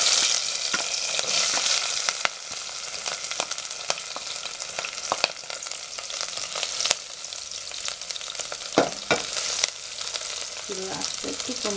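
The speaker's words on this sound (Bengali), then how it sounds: "তেল গরম হয়ে এসেছে, এখন আমি পেঁয়াজ কুচিগুলো দিয়ে দিচ্ছি।" Chopped onions frying in hot oil for a Bangladeshi bean dish, a steady dense sizzle with scattered crackles and stirring clicks throughout, close and alone without talk.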